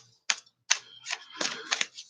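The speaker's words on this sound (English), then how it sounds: "I'm just gonna shuffle these out." Tarot cards being shuffled by hand, a series of crisp riffling and slapping bursts that grow busier toward the end, close and fairly quiet with no talk.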